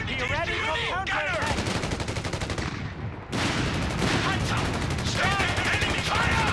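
Rifle and machine-gun fire in the World War II strategy game Company of Heroes 3, loud rapid bursts of shots crackling almost continuously with a brief lull midway, mixed with battlefield clatter and occasional voices.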